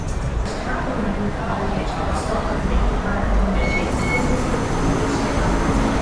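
A subway train ride in Bangkok, Thailand: the car gives a steady, loud rumble and rolling noise while people talk nearby.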